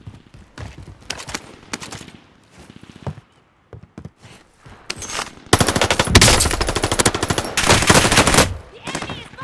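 Enemy gunfire in Call of Duty's Rebirth Island: sharp automatic bursts and scattered single shots, sparse at first, then turning into loud, dense, sustained volleys near the end.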